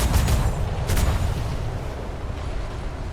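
Ship cannons firing in the naval roleplay game DarksideRP, a couple of heavy booms near the start rolling into a long low rumble that slowly fades, with no talking.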